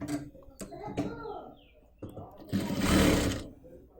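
A sewing machine stitches down a double-folded half-inch hem on a front-slit kurti, running in a steady burst near the end after short handling sounds.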